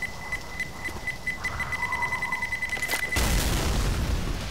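A thrown grenade in Left 4 Dead 2 goes off in a sudden loud, low boom after a steady beeping tone, followed by rumbling noise.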